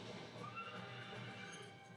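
A horse neighs and whinnies in a TV commercial, with faint hoof clip-clops underneath, the sound moderately quiet and continuous over a couple of seconds.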